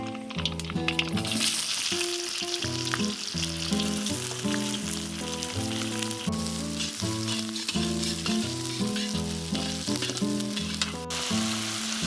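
Chopped onions sizzle steadily in hot mustard oil for a tadka, a continuous crackling hiss that runs the whole time beneath louder melodic background music.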